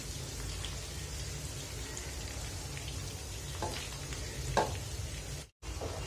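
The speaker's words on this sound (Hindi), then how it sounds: "कीमा अच्छे से भून चुका है, अब मैं इसमें मेथी की भाजी डालती हूँ।" Fenugreek greens go into minced meat frying in a pan, giving a steady close sizzle with a few stirring scrapes, then a brief cut in the sound before the frying resumes.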